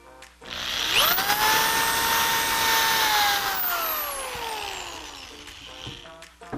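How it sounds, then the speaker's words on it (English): Power drill driving pilot holes into the opposite side of a wooden middle brace for a desk caddy: a sharp spin-up whine, a sustained loud drilling stretch, then a gradual wind-down. "Why you see me drilling from both sides is to ensure there's stability."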